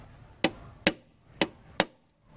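Four sharp metallic taps spaced about half a second apart, a hammer striking a center punch on the body of a Corolla AE101 before drilling, close and clear over a quiet background.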